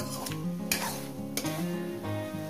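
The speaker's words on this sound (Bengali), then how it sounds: "একটু নাড়া দেখি" Crab curry being stirred in a pan, with a steady sizzle of frying under repeated scraping and clinking strokes of a spoon against the metal, close and continuous with no talking.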